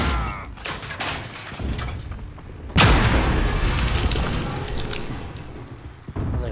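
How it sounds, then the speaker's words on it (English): In a Call of Duty-style video game, a sharp, loud blast hits partway through, followed by rumbling booms and crackling debris, with scattered gunfire-like pops in the distance. "A lot of explosions around me"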